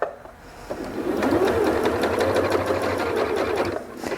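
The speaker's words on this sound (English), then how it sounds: "and now start stitching" A Janome MC8200 sewing and quilting machine stitches in one continuous run, its close, rapid mechanical whir steady for several seconds after a brief start-up.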